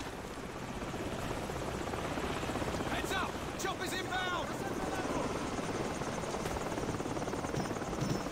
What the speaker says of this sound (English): Chopper's inbound! Dropping in!